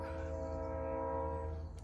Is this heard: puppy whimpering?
no